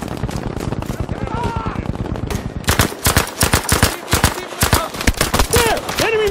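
Enemy machine gun fire in a naval combat video game, rapid loud bursts of sharp reports, steadier at first, then heavier spaced volleys, close and punchy.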